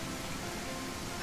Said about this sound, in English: It's too much rain.